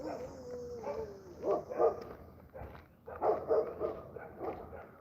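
Dogs barking and yipping outdoors on a busy Saturday walk, a few clustered barks at moderate distance, rising and falling in short bursts over background ambience.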